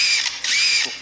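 A buzzer sound mimicking a camera shutter, made by a bird that copies noises: a short series of bright mechanical clicks and whirs in quick bursts, close and clear, lasting about a second with no talk.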